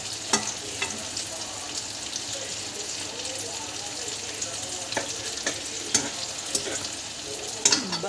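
Garlic sautés in a hot pan with a steady, close sizzle and frying crackle, broken by occasional sharp clicks of stirring.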